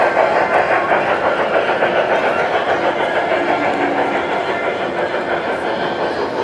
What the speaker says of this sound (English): This is Trevor's favorite train